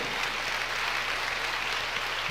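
Audience applause fills a church service, a brief, steady wash of clapping heard close, with no voices over it.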